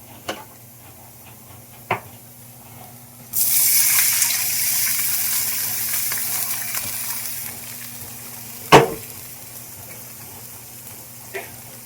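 Broth pours into a pan for teriyaki sauce, honey and coconut vinegar already in, as a steady splashing stream for several seconds, framed by a few sharp clinks before and after; no talk over it.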